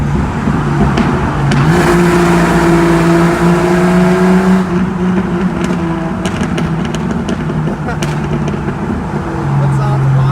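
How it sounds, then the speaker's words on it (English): A Jeep with a newly fitted exhaust pulls hard through a tunnel, its loud, rumbling engine climbing and holding as it accelerates, with echoing reverberation and voices talking over it. "he's got this new exhaust. We want to see how it sounds up here."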